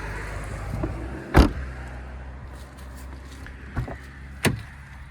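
Power windows on a BMW E32 740iL whir faintly under a steady hum inside the car, with a few short thumps and clicks between the motor runs.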